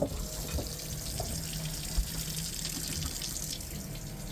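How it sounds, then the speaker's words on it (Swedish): Water running steadily from a tap aboard a sailboat, a continuous splashing stream with a faint dull knock partway through. "Nu kommer det vatten i kranen!"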